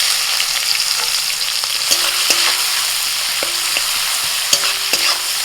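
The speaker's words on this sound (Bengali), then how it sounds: "ফোড়নটা ভাজা হয়ে গেছে এবার দিয়ে দিচ্ছি পেঁয়াজ কুচি" Chopped onion sizzles loudly in hot oil with whole spices for an egg curry, a steady close hiss running throughout, punctuated by occasional sharp spoon clinks and scrapes against the pan.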